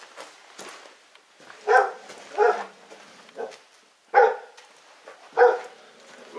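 Dog barking in a workshop setting, several sharp moderate barks spaced irregularly, slightly distant, over faint background noise.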